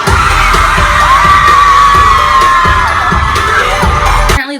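A concert crowd at Magcon San Francisco 2016 screams loudly as special guests appear on stage, with sustained high-pitched shrieks and bangs throughout, close and saturated until it stops abruptly.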